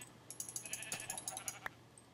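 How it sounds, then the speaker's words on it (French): A white sheep in a video game bleats in a quick run of short wavering cries, fairly faint, with no one talking over it. "Y a pas un autre mouton blanc?"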